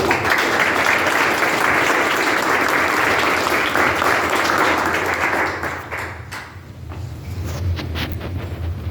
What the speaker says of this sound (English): Let's give a round of applause for her.